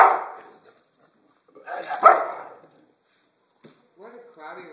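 An American bulldog barks in a few loud, close bursts separated by pauses, with people talking nearby.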